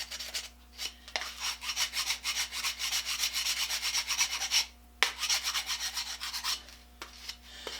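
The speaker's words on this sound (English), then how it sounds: "So I go after it with a 50 grit on this side, and I smooth it up with a 150." Coarse 50-grit sandpaper is rubbed over the battered edge of a wooden handsaw tote, producing a steady, close, rhythmic scratchy rasp in quick strokes, with a brief pause midway.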